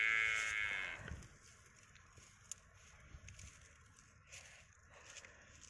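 A buffalo lets out a loud, drawn-out low moo in the open while grazing with the herd, followed by quieter rustling outdoor ambience.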